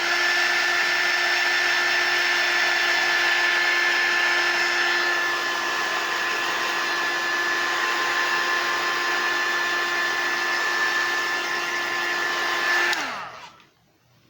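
Hair dryer blowing steadily to dry glue on a napkin craft page, a loud continuous whine with a steady tone that holds for about thirteen seconds, then cuts off abruptly near the end.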